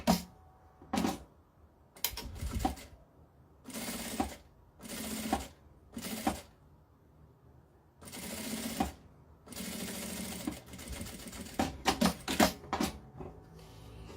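A domestic sewing machine stitches bias binding over a zipper on a small fabric pouch. It runs in repeated close, loud bursts of whirring stitching separated by short pauses, and no one speaks.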